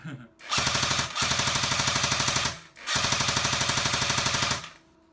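A&K M60 airsoft machine gun fires two long sustained full-auto bursts, loud and close, with the gearbox audibly winding behind the rapid mechanical rattle, separated by a short pause and ending in a brief silence.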